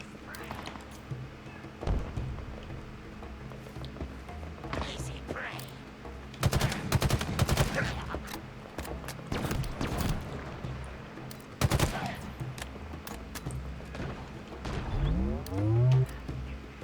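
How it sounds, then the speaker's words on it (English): Enemy gunfire in the Halo Infinite campaign arrives as scattered single shots and rapid bursts spread across the stretch, loud at moments and then trailing off, amid other game effects. "Enemy fire on me!"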